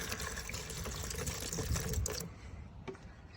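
Liquid poured from a container into an old plastic dishwasher-detergent bottle in a garage, a steady close splashing gurgle that cuts off after about two seconds, leaving faint drips.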